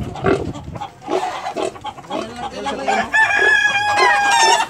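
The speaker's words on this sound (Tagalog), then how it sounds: "Yung baboy ni Inday, matapang. Ayaw magpahuli" A stubborn pig fights being caught, squealing and grunting loudly at close range. Chickens cluck and a rooster crows over the pig's noise, with busy farmyard movement underneath.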